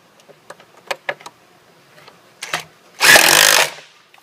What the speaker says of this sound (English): and fasten a screw in each of these holes, securing tier 3 to tier 2.